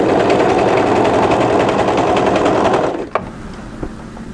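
An overlocker runs along the side seam of a tie-front dress, a loud steady whirring buzz that holds for about three seconds, then cuts off and leaves a couple of faint clicks.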